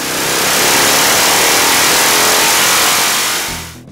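A carbureted motorcycle engine with S&S Cycle drag pipes exhaust revs hard with a larger air bleed fitted, a loud, close, sustained roar for several seconds before dropping away abruptly.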